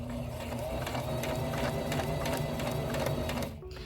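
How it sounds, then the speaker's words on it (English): A sewing machine runs steadily, stitching over a fork pleat on a pleated skirt, a continuous close mechanical whir with fine rapid needle ticking that stops abruptly near the end. "And then just sew over it and secure it."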